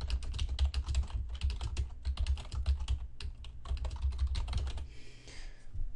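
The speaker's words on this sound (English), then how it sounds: "It's just a matter of highlighting everything and typing over it." Rapid, steady typing on a computer keyboard, with dense clusters of clicky keystrokes close up and a short pause before the tapping resumes; no voices.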